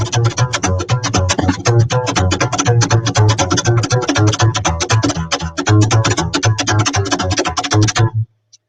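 Slap bass groove on upright bass played in a straighter Romanian Romani style, with steady driving percussive slaps and a low pulsing line, loud and close for about eight seconds before stopping abruptly.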